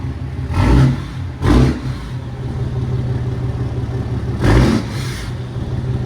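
A 2015 Ram 2500 with the 6.7-liter Cummins diesel and straight pipes revs three times in short, loud, deep bursts, each blip rising over a steady rumbling idle that continues between them.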